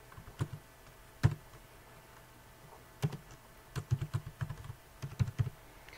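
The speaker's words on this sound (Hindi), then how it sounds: "तो ये हमने थोड़ी सी टाइपिंग कर ली।" Quiet, irregular keystrokes on a computer keyboard while text is entered in Microsoft Word. Clusters of sharp clicks are separated by short pauses, with no voice over them.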